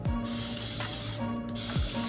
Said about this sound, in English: I'm gonna spray my hair briefly one more time, mainly focusing on my roots.